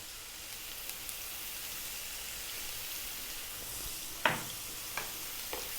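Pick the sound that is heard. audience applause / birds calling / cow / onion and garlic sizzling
onion and garlic sizzling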